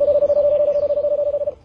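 A man imitates the call of the rola branca dove with his voice, giving a clear, close, steady hooting tone that pulses rapidly for over a second before fading.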